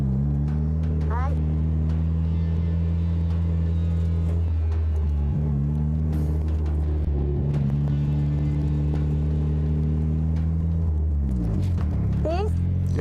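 A car drifting through slalom donuts with a drift instructor and a passenger aboard, engine droning steadily and dipping and rising as it revs, with a couple of short tire squeals, under people talking.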